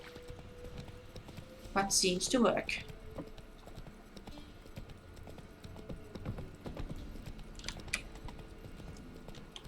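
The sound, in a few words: horse hooves clip-clopping on a road, from the video game The Witcher 3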